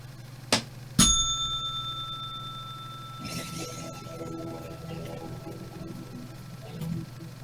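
A bicycle bell rings sharply twice, the second ring lingering and fading, followed by quiet rustling and faint background noise.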